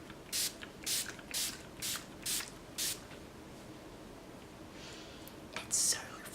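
Six quick hissing bursts of makeup setting spray in a steady rhythm, close by, followed by a couple of softer sprays after a short pause.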